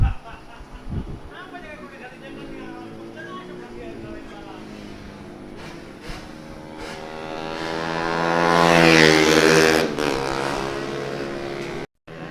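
Honda CBR 1000 cc motorcycle engine at the Bukit Peusar circuit in Tasikmalaya, running steadily and then revving up to a loud, rising peak before dropping off, with people talking over it throughout.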